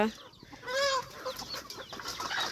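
Chickens clucking at a farm in the evening: a few close, faint clucks and short calls from a fowl over a quiet outdoor background, with no talk.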